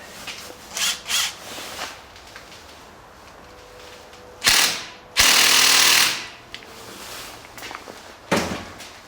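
A ratchet loosens a 5mm hex bolt on the brakes of a 2006 Saab 9-3. Scattered clicks and knocks lead to one loud, rapid burst of ratcheting, followed by a short final clack, with no talking.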